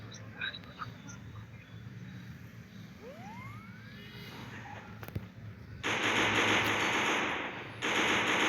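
Gunfire in the Free Fire mobile game: quiet game ambience with a single sharp crack, then loud sustained bursts of automatic fire that stop briefly and start again, with players talking over it.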